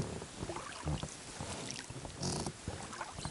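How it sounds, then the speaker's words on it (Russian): A small boat drifts on a river during a float-fishing trip for pike, with steady water lapping against the hull and gusty wind rushing over the microphone. No voices are heard. "И вот я на лодке плыву"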